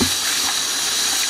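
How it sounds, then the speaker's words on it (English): Pumpkin seeds are rinsed under a running kitchen tap, a steady, hissing rush of water that stays loud and even throughout. "So I like to give it a good rinse."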